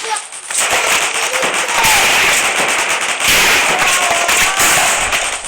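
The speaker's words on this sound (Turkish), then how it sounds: "Bakın bomba atıyor." Bombs thrown and bursting in a weapons-mod video game, a dense run of loud crackling blasts and pops filling the whole stretch, with no pause between them.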